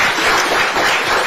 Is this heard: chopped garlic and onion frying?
no